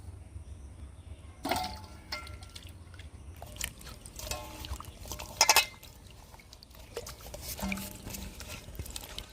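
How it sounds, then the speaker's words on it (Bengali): Peeled raw green mangoes are washed in water, with intermittent splashes, drips and sloshing of liquid at close range, one brief louder splash midway, and no talking. "এবার আমগুলোকে ভালো করে ধুয়ে নেব"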